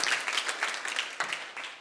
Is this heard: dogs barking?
no